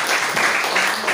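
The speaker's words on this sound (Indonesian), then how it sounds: "Kita beri tepuk tangan dulu kelompok" A school class applauds a student group in a twelfth-grade lesson, a short burst of dense, fairly loud clapping from many hands.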